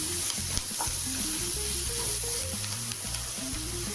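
Onions sauté in a pan with a bright, continuous sizzle, broken by scraping and clattering stirs of a spatula close by, no speech.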